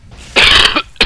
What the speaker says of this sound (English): once again, I apologise for the cough